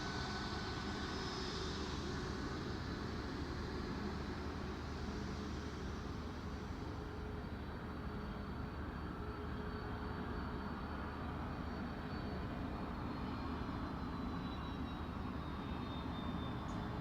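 Engines of a Dornier aircraft run steadily at the Farnborough International Airshow, a continuous droning roar heard from a distance with no breaks.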